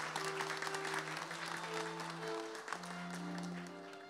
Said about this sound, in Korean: 오늘 학위 수여식을 참석해 주신 모든 분들을 위해 다시 한번 큰 박수로 환영해 주시기 바랍니다